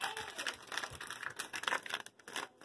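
A chocolate Jello pudding mix packet being opened up close, giving a steady crinkling and crackling of the wrapper with a few sharper tearing bursts and no talking.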